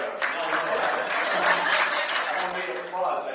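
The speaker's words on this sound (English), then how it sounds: "I don't need applause." At a food summit talk, an audience claps steadily with a few chuckles mixed in, while voices carry on underneath.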